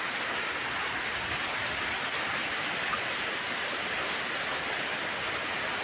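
Steady, dense rain pours down on a rainy afternoon, a loud and even hiss of drops striking surfaces, with no voices.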